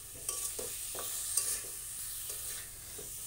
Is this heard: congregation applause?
no